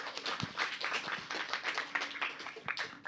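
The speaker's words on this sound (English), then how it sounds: "Please give a big applause again for our nation" Audience applause at an Indonesian Independence Day celebration: many hands clapping at once in an uneven, lively patter, moderately loud and close, with a few sharper individual claps standing out.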